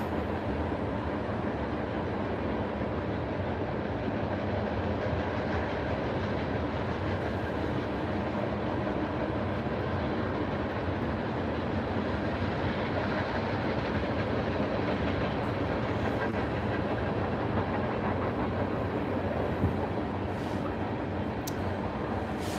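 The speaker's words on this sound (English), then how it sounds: "This train must have either done a track switch recently, or it must hook up somewhere near here because it has not gained a lot of speed yet." A slow train with two engines rolls along the tracks, its steady rumble and rail clatter continuous and fairly close throughout, without a break or rise in speed.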